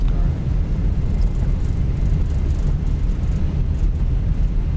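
An Airbus A321 on its landing rollout with the engines in reverse thrust, heard from the flight deck as a steady, dense, low roar that holds for several seconds without letting up.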